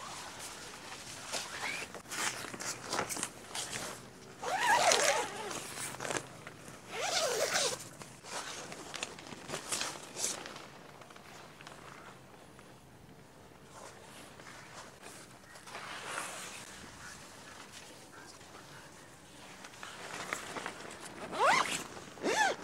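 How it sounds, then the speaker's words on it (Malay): Zips on the awning door of a Mobi Garden Backroom tent are drawn repeatedly, with long rasping zipper runs separated by quieter rustling and handling of the fabric. "kita tutup semua zip pintu awning"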